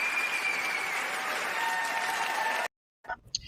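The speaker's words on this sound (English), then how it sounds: "a round of applause for that." Loud audience applause from a live talk-show crowd, a dense steady wash of clapping that stops abruptly, followed by a brief pause and a few faint scattered sounds.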